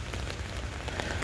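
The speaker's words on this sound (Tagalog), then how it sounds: "dahil nga umuulan," Rain pattering steadily on a surface nearby, a dense crackle of drops with no voices.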